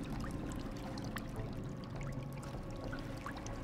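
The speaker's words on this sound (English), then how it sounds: "That's a whole lot of water." Flowing water in the survival video game Sons of the Forest, a steady, faint rushing pour with no breaks, heard alone.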